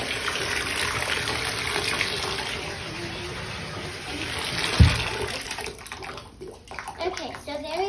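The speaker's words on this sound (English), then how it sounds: "always remember to use some warm water" Warm water runs from a tap for a leopard gecko's bath, a continuous close rush with a brief knock midway and some voices present.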